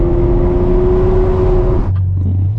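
A Ferrari V12 with a 6-speed gated manual holds a loud, droning exhaust note at steady revs, then the pitch drops sharply as the engine falls back to a lower, lighter tone near the end.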